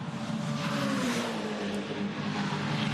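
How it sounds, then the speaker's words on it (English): Touring Car Masters race cars roar down Conrod Straight at Mount Panorama, a continuous blend of engine drone and rising revs from a pack of cars heard at some distance, with no talk. "King is down Conrod Straight. We follow this pack of Touring Car Masters."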